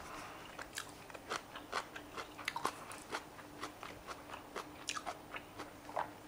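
Close, crisp chewing and biting on sea bream sushi, a steady run of short crunchy mouth sounds in uneven rhythm with no talking.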